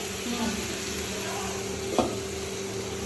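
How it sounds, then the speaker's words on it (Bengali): Ginger being stirred and fried in hot oil for tomato tangra, a steady close sizzle with a spoon scraping the pan and one sharper knock near the middle, no voices. "আদাটাকে তেলে মেশাতে হবে।"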